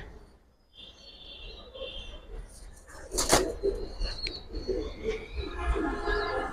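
Two pet pigeons of a fancy breed, at a Bangladeshi pigeon seller's collection, give soft low coos and brief wing flaps against a busy background of other birds chirping, with some nearby rustling.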